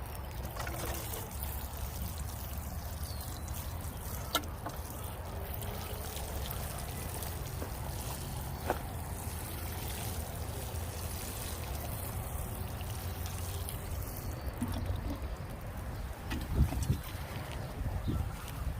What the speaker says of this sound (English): Now just to water.